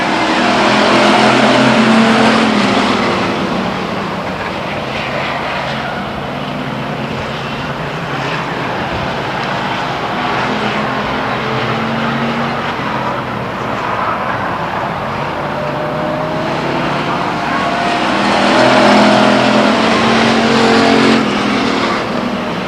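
Race cars roar around the Stockton 99 Speedway oval, a loud, continuous engine drone that swells as cars pass close and fades slightly mid-lap.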